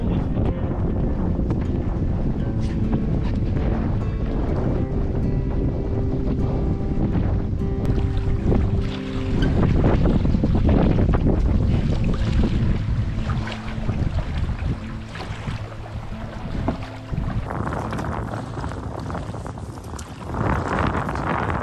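Strong wind buffets the microphone on a lake during a canoe trip among islands, a loud continuous roar with gusts, water sloshing along the hull, and no voices.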